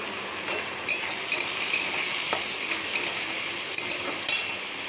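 Metal utensil stirring prawns and potato with turmeric and salt in a pan, a steady run of sharp clinks and scrapes against the pan at close range, with no talk over it.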